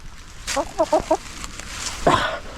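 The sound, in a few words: chickens clucking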